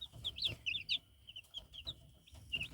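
Young Chinese silkie chicks peep and cheep in quick, high bursts close by, scattered irregularly over soft background rustling as they eat and spill their feed.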